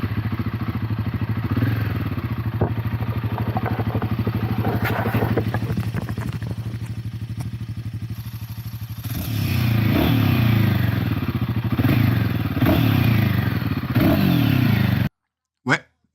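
A Royal Enfield Himalayan 450 single-cylinder trail bike idles with a steady, loud thumping beat, then is blipped into several sharp revving bursts before cutting off, with some clatter and a voice talking in between.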